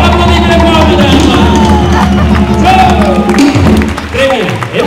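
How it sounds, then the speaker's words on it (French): Audience at a Tahitian dance show in Beaucaire clapping loudly and steadily, a dense wash of applause mixed with crowd hubbub and a voice over a sound system, with a deep musical hum underneath. "On applaudit très fort, madame"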